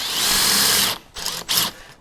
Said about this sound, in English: so you can just put a little bit of angle on your drill bit